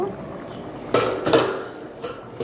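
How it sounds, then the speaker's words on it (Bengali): A metal lid comes off a cooking pot of khichuri boiling on a high gas flame, giving a few sharp clanks and scrapes close by, the loudest near the middle, then a light tap at the end. "আমি এবার ঢাকনাটা খুলে দেখব"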